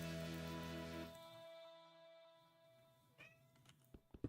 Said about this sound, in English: my cat's meowing at my door